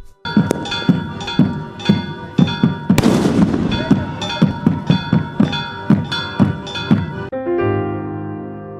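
Fireworks rockets burst at a religious festival, one loud crackling blast standing out amid a steady, evenly spaced pounding of bass drums and ringing tones.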